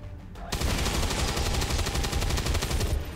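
Gunfire in the game XCOM 2 erupts after a brief quiet lead-in, a sustained loud burst of rapid, closely spaced shots that rattles on for nearly three seconds before easing off.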